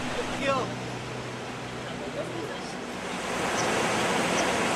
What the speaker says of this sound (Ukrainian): Від підніжжя кінобалу сплавляємося стрімкою гірською річкою.